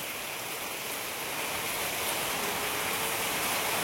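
Heavy rain pours steadily in a continuous dense roar of drops that swells slightly louder over a few seconds, with no voices over it.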